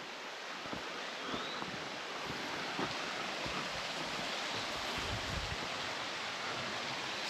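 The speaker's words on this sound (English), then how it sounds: "there's even a waterfall going, which is rare" A steady, broad rush of falling water fills the air without pause, soft and somewhat distant, with faint wind in the background.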